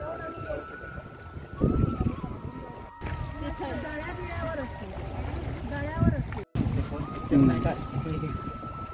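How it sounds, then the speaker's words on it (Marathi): A small rowboat arrives across the water at Burambewadi near Rajapur to ferry festival-goers, with soft gurgling and lapping of water running under steady nearby voices throughout. "आता तो येतोय, त्याची होडी घेऊन आम्हाला नेण्यासाठी तो आलेला आहे"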